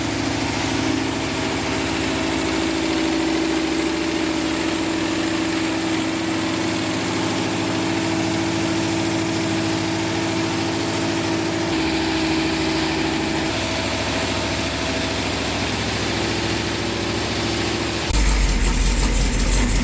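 A rebuilt Pontiac 455 V8 idles steadily after start-up, a loud, close, continuous low rumble with a faint ticking kick, shifting slightly in tone partway through, with no voices over it.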